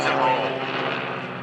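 A Blue Angels jet flies a four-point hesitation roll at a homecoming airshow, heard as a loud, steady engine roar that fades a little over a second and a half, with a voice talking over it.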